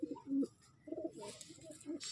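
Andhra pigeons at a breeding loft coo in low, rounded bursts, several calls in about two seconds, close by, with faint rustling and higher chatter behind.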